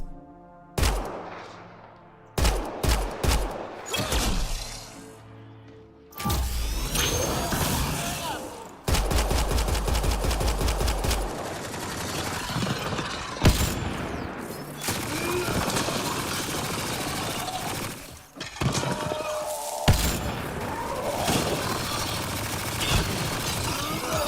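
Gunfire in the video game Mass Effect Andromeda, loud bursts of rapid automatic shots and single cracks interspersed through a busy combat scene, some dense fusillades, close and dominant.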